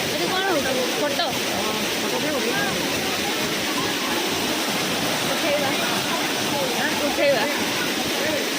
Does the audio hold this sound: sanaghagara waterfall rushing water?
yes